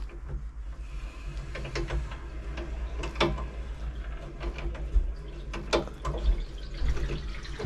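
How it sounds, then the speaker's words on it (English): Cold supply water rushing through household plumbing as it begins filling a hot water cylinder in a small cupboard, a steady close hiss and gurgle with a few faint knocks, no voices. "Cold's all in, so I can turn the water on."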